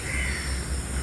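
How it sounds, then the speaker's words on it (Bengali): A crow caws on a quiet college campus in North Bengal on a drizzly early morning, a brief outdoor call over soft steady background ambience. "ক্যাম্পাসে শুধু পাখির ডাক ছাড়া আর কিছুই শোনা যাচ্ছে না।"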